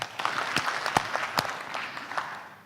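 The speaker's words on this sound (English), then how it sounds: "please give them 2 claps" A conference audience at an African investment summit claps briefly for startup pitchers, a short burst of applause from a seated crowd that fades over a couple of seconds.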